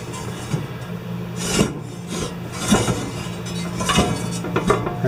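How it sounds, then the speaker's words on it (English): A greased Husqvarna 14.5 HP snowblower auger is spun by hand, producing repeated rasping, scraping rubs with light metallic clinks at irregular intervals, close and moderately loud. "Then we're going to spin these and get the grease to move inside the auger."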